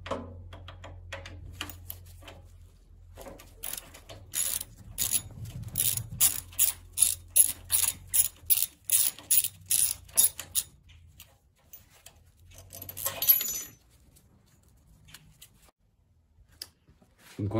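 A ratchet wrench removes a 12 mm bolt on a Honda Shadow Aero VT750C motorcycle, making a quick run of sharp, evenly spaced clicks up close, followed by a single louder clunk and then quiet.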